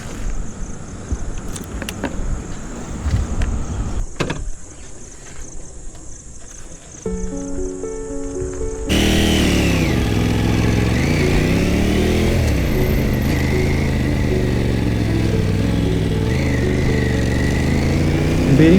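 A motorcycle sets off from a Kali temple in monsoon rain in Chittaranjan, with uneven rumbling and a brief quieter gap before a steady, loud engine drone with rising and falling pitch as it rides away.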